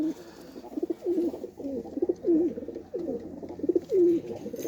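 A white-eyed pigeon coos nearby in a repeated series of soft, throaty rolling calls, several in a row with short pauses, close and fairly clear over a quiet background.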